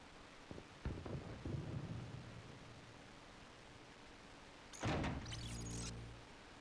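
Rain pours down in a Call of Duty Remastered level with thunder, a hiss of constant rainfall under a low rumble and a sharp thunder crack near the end that rolls on for a second or two.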